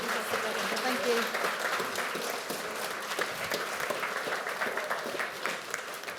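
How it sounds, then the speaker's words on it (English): Audience applause at a podcast conference keynote, a steady wash of clapping that holds for the whole stretch at moderate loudness, with some talk mixed underneath. "can I have a big round of applause for Alex?"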